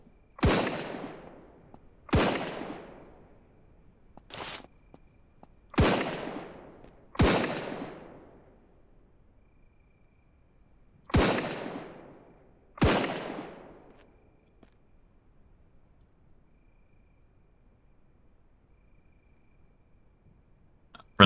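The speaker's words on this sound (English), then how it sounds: "He's just shooting some zombies." Gunfire rings out while shooting zombies in the game Surroundead: seven sharp, loud single shots spaced irregularly a second or two apart, each with a short decaying echo, followed by quiet.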